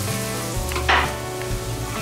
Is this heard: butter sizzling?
yes